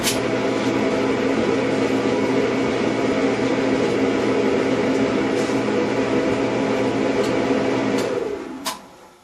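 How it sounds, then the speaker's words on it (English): A Performa clothes dryer runs after a thermal fuse check, giving a steady loud drone with a constant low hum, then winding down and stopping near the end with a brief clunk. "Try the dryer to see if it works now."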